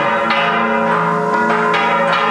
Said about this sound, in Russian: колокола звучат